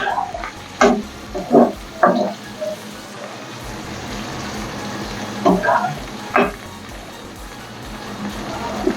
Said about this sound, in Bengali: জাস্ট একটু তেলে নাড়িয়ে নেবো